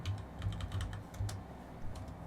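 Rapid, close keystrokes on a computer keyboard during a Minecraft game, falling in quick uneven bursts with short pauses, no voices.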